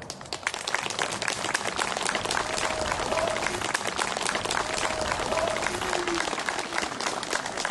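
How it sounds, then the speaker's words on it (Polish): Audience applause at a volunteer fire brigade's 110th anniversary ceremony while guests are welcomed: dense, steady clapping fills the whole stretch at an even level, with faint voices beneath. "Serdeczne brawa."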